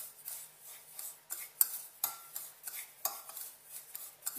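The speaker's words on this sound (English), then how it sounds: "So now I'm mixing my couscous with the oil." Couscous is stirred with oil in a bowl, giving a quick series of light metallic clinks and scrapes from a utensil against the dish, close and fairly quiet, with no talking.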